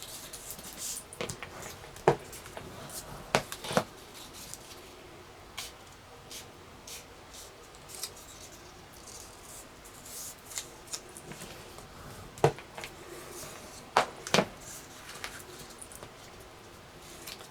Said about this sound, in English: you need to go ahead and fold on your score lines